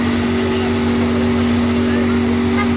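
A hypercar engine idling and rumbling in race mode at Place du Casino in Monaco, a loud, steady mid-pitched drone held close throughout with crowd noise around it.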